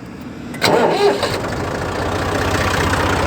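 A tiller engine fitted with an earth auger attachment cranks and catches with a sharp start. It then settles into a loud, steady, close-up running drone.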